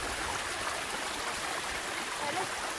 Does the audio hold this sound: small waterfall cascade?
yes